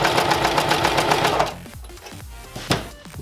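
A sewing machine stitches webbing in a rapid, steady mechanical run for about a second and a half, then stops, leaving a few light clicks and handling sounds.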